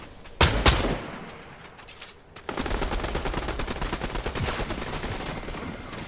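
Gunfire in a video game: two sharp shots open, then after a short lull a rapid stream of automatic fire rattles on steadily.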